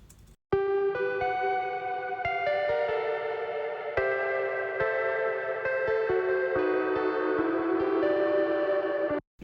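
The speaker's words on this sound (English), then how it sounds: "The guitar is dropped out, and I introduced this really lush arpeggio." A lush, sustained synth arpeggio, a tweaked Logic preset, rolls steadily with heavy reverb and echo, notes shimmering and overlapping for several seconds.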